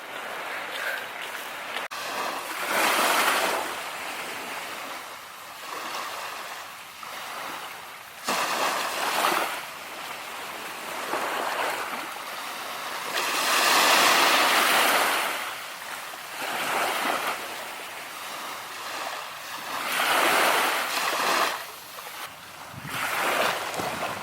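Sea waves wash onto a beach at sunrise, each surge swelling into a broad hiss and receding in slow rhythm, with wind buffeting the microphone and no talking.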